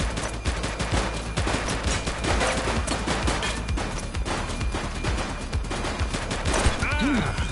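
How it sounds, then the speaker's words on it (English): Rapid, overlapping gunfire in a police shootout in The Precinct video game, bursts of shots cracking nearly continuously for several seconds with shouted voices in between and a crash near the end. "Shots fired!"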